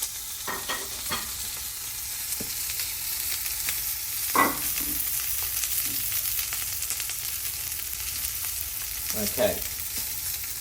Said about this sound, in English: You just put the prawns in. They've been oiled on the outside, so they'll get really hot.